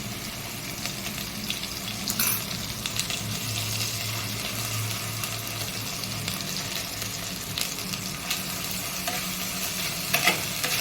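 Ginger-garlic paste sautéing with a catla fish head in a pan, a steady broadband sizzle with scraping stirs and a few sharper clinks of the spoon near the end, no talking.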